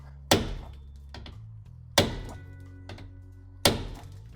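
A 4.5 pound sledgehammer strikes a tool on the rear brakes of a Ford Escort, landing three heavy, evenly spaced metallic thunks, each ringing briefly and fading, with faint small clinks between blows.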